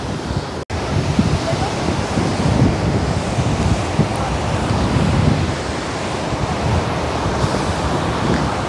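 Kozhippara waterfall at Kakkadampoyil roars in a loud, continuous wash of rushing water close by, with a steady broadband hiss and no breaks.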